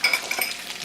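Strips of bacon frying in a pan, a soft continuous sizzle with faint crackles and a few light utensil clinks, close and moderately quiet, with no talking.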